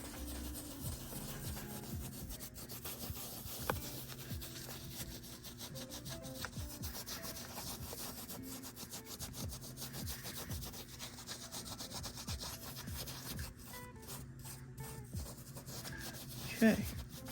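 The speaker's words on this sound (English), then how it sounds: "you see those stains, we're going to rub it in really well" Cleaner being rubbed into stains on suede shoes, a soft steady scrubbing and brushing that repeats in quick strokes, faint and close, with a louder scuff near the end.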